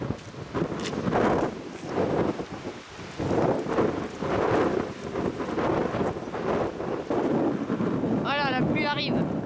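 Strong coastal wind at Land's End in Cornwall, England, roars as steady broadband buffeting across the microphone throughout, with rain approaching and a near voice talking over it.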